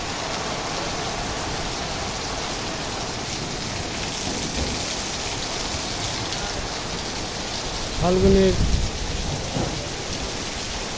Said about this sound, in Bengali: প্রচণ্ড ঝড় হচ্ছে, ঝড়ের প্রচণ্ড গতি, দ্রুতগতির হাওয়া